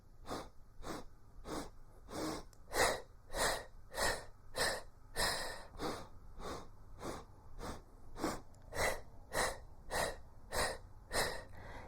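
Sharp, rhythmic breaths pulse out through the mouth during the Pilates hundreds exercise, about two puffs per second in steady groups, close and fairly quiet, with no talking.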